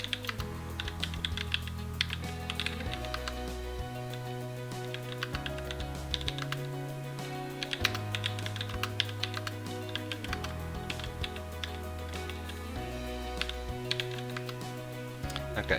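Rapid typing on a computer keyboard, close and continuous, with irregular bursts of key clicks and occasional heavier strokes like the space bar or tab key, no one talking.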